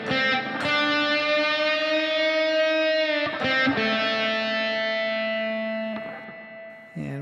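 A distorted electric guitar plays a riff variation, long sustained overdriven notes with a few slides and changes, loud and close with effects, no speech.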